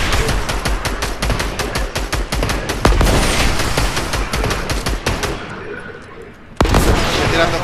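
Rapid bursts of gunfire and rocket blasts crackle in quick succession in the video game Fortnite, loud and close, with a brief lull before another sharp burst.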